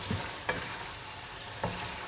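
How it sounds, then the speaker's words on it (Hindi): Chicken and spices stir-fried in a karahi for Afghani karahi, a steady close sizzle broken by two or three distinct ladle scrapes and knocks against the metal, no talking. "अब इसकी थोड़ी भुनाई करनी है और मसाले ताकि अच्छे से मिक्स हो जाए।"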